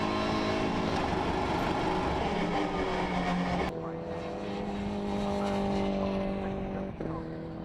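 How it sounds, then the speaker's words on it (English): Mini Challenge race cars at Silverstone, loud engines droning and buzzing as a pack passes close by, with a sharp cut partway through into another steady engine note as cars push through Chapel Curve. "Hamish Brandon makes the mistake coming into Chapel Curve"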